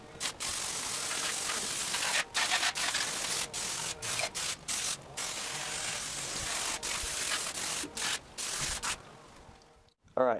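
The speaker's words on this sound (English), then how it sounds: "I can now get to cleaning the bike." A Kawasaki motorcycle with its body panels removed being scrubbed clean, a continuous close rubbing and brushing sound broken by brief pauses, ending in a short clatter.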